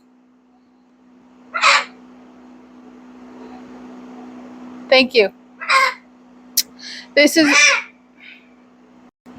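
A bird freshly out of a bath in a sunlit autumn garden gives a few loud, harsh caw-like calls in separate bursts, near and clear over a low steady hum, with a brief spoken phrase among them.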